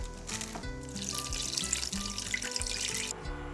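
Two liters of water pour steadily into a pot holding oxtail, a continuous splashing rush beneath a low, humming background tone, lasting a few seconds without pause.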